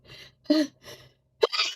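A single person sneezes indoors, a few short sharp breaths leading into a loud close burst at the end, with no other sound around it.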